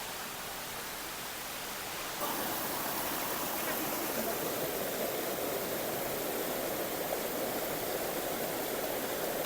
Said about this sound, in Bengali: এই পানিগুলো কিন্তু পাহাড় থেকে বেয়ে পড়ছে আর কি।